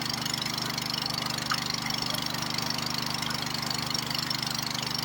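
A small 5 HP petrol water pump engine runs steadily nearby on a farm, a constant rapid chugging drone that never changes pace.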